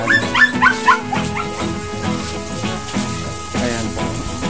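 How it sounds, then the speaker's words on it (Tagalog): A dog whimpers and cries in high, wavering whines, close and fairly loud, with a steady background hum beneath the sounds. "Umiiyak yung aso pag nakikita niya ako"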